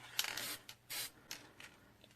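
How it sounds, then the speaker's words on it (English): An aerosol spray paint can hisses in several short bursts of uneven length, close by and fairly quiet, with gaps of near silence between sprays and no voices. "Here, I'm going to spray paint right here and I'll show you."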